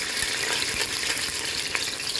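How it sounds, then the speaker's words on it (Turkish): A steady, close sizzle of tomato paste frying in oil in a pot while stirred, with faint crackles and light scraping throughout. "Yarım kaşık salçamı tencereme yağın içine koydum. Şöyle kokusu çıkana kadar bir iki çevriştiriyorum."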